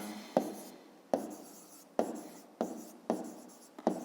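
A pen scratches across paper while solving a fifth-grade geometry exercise. Six quick, crisp strokes sound close and distinct, each starting sharply and then fading, in an even rhythm.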